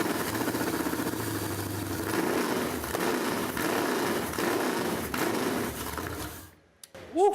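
A Holley carb-to-EFI fuel-injected engine runs steadily with a loud, rough idle rumble, then cuts off near the end, followed by a brief high whine.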